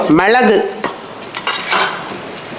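Coriander seeds and sesame are dry-roasted in a pan over medium flame, a metal spoon scraping and clinking against the pan in short strokes, close and clear, with a brief higher vocal-like tone at the start.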